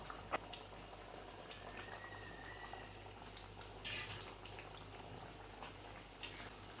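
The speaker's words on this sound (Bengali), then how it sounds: "দেখো ঝোলটা উতলাচ্ছে" A pot of singi fish curry broth boils at a low, steady simmer, its soft bubbling punctuated by a few sharper pops and clinks, quiet and close with no one speaking.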